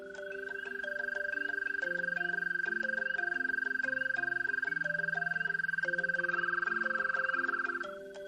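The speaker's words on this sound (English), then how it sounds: "This is what an American toad sounds like." An American toad gives one long, steady, high musical trill that holds for several seconds before stopping, heard over a soft background melody.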